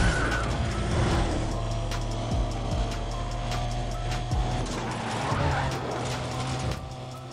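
A fast Mercedes tears through Need For Speed Undercover with a continuous engine roar and repeated tire squeals and skids, accompanied by sharp clicks and impacts as it swerves about, loud and close with no talking.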